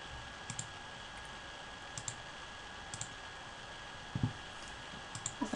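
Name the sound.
computer mouse clicks and typing while entering text in Prezi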